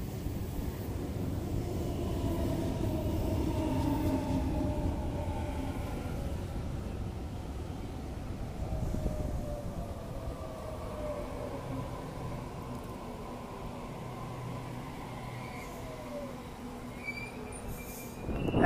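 A Sydney Trains Waratah electric train pulls away from platform 3 at Denistone station with a rising motor whine and rolling wheel noise that slowly fades into the distance.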